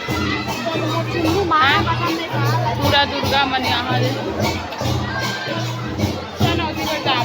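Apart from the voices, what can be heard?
crowd of people at a jawara immersion festival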